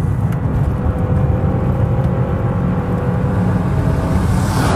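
Steady, fairly quiet engine drone of a completely original, standard Lancia Delta Integrale Evo II taking corners, with road and wind noise, a constant low rumble throughout.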